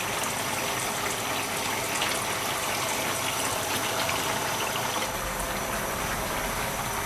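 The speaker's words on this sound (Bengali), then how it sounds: "মুগ ডালগুলোকে আমি ভিজিয়ে রেখেছিলাম, তো এটা এখন আমি দিয়ে দিচ্ছি" Soaked mung dal tipped into a pan of frying fish pieces for a fish-head muri ghonto, producing a loud, steady hissing sizzle throughout with no speech.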